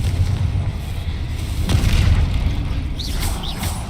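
A Confringo fire spell explodes during a troll fight in Hogwarts Legacy: one deep, booming blast with a crackling burst and a rumbling tail, loud and close, without any talk.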